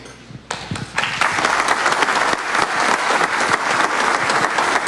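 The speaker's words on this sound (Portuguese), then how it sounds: "o governador aplaudido no momento" A large crowd of about 1,500 guests applauds the São Paulo governor after his oath of office, clapping bursting in suddenly and swelling into loud, sustained applause.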